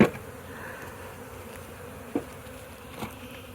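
Bees buzz steadily around a nuc box during a log hive removal, a faint continuous hum with a few soft knocks, and no voices.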